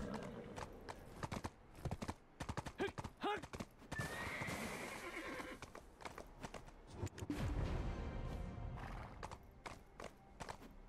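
Hooves clip-clop on hard ground while a horse in the video game Black Desert neighs and whinnies, with a voice speaking in between.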